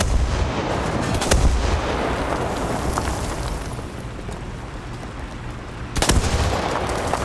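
Tank cannon fire in the War Thunder arcade tank battle game with British tanks: a loud booming shot near the start and another sharp blast around six seconds, over a steady rumbling battlefield background.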